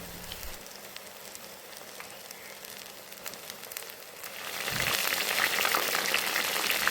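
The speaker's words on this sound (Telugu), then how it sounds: "ఆయిల్ హీట్ అయ్యాక ఫ్లేమ్ని మీడియంలో పెట్టి ఇందాక మ్యారినేట్ చేసి పక్కన పెట్టుకున్న సోయా చంక్స్ని ఒక్కొక్కటిగా వేసుకొని అంతా వేగేలా గరిటెతో వేయించుకోండి" Marinated soya chunks frying in hot oil over a medium flame; a soft, steady crackle and fizz that swells louder and denser partway through, with no voices.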